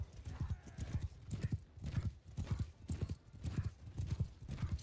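Cavalry horses gallop in Mount & Blade II: Bannerlord, a steady rolling clatter of many hooves pounding in repeated bursts, loud and close, with an occasional whinny mixed in.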